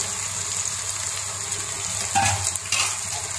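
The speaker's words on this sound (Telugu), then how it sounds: "ఇప్పుడు ఎండు చేపలు వేసేస్తున్నాను." Dried fish dropped into hot oil with softened tomato gives a steady frying sizzle, with a brief louder burst of crackle and stirring near the end and no talking.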